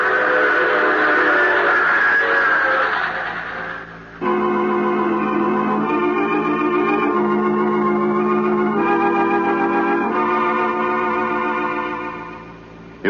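A train sound effect in an old-time radio mystery drama: a loud, steady rolling rumble with sustained whistle or horn tones that break off briefly and then resume, alone with no talking.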